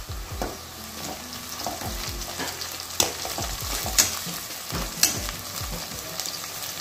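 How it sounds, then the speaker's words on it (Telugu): Onions and green chillies sizzle in a pan for a potato and fenugreek curry. A steady frying hiss runs throughout, and repeated stirring scrapes and knocks sound close by with no voices. "కొంచెం ఆనియన్స్ వేగినాక పచ్చిమిర్చి వేసుకోవాలి"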